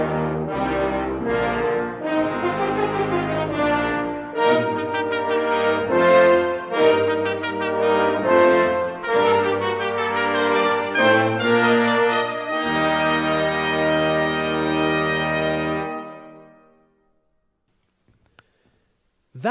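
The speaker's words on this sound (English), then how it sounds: "Together, the brass section sounds like this." A full brass section of trumpets, horns and sousaphone playing together, rich and loud with punchy chords, holding a final sustained chord that fades into silence.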